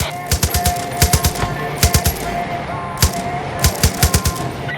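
Loud machine-gun bursts in Far Cry 5 rattle in quick clusters of rapid shots with short pauses between, close and sharp over a low ambient rumble.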